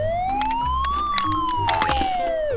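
A toy police car siren wails once, sweeping up and then back down in pitch, loud and close, over a low rumbling background.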